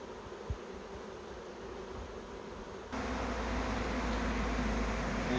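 A captured swarm of honeybees, found in an electricity meter box, buzzes steadily at close range, a dense continuous hum that swells noticeably louder partway through, with no talking.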